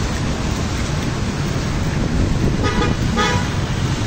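Vehicles pass along the flooded MacArthur Highway in Marilao, Bulacan after typhoons, making a loud, steady roar of engines and splashing water. Two short honks sound near the end.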